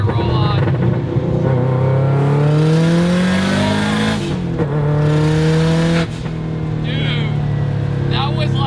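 A Miata with a swapped-in Subaru WRX engine pulls hard in second gear, its loud engine note climbing steadily in pitch, easing briefly, then rising again, with voices talking over it.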